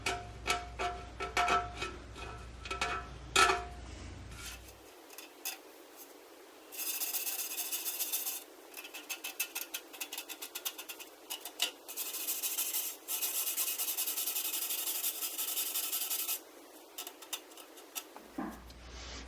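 Brushing and scraping crud off a vintage copper and brass fire extinguisher during restoration, bursts of dry rapid rubbing and scratching, close and alone, with short pauses between strokes.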